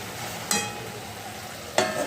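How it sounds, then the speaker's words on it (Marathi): Milk simmering and reducing in a pot for a Janmashtami sweet, a steady soft bubbling hiss broken by two brief scraping stirs of a spoon against the pan; no talking. "तर आता हे दूध आटेपर्यंत मस्तपैकी याला आता शिजून देणार आहे"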